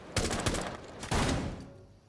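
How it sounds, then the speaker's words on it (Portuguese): Gunfire in a Brazilian comedy film, two loud bursts of rapid shots in quick succession, close and sharp, the second trailing off into quiet. "Que tiro foi esse?"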